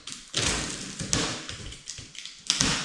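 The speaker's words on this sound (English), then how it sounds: "Just using the box knife to cut them open." A box knife cuts the packaging straps on a boxed electric pit bike, the E&C ETM RTR, with sharp snaps, taps and thuds as the straps give way, close by and without talk.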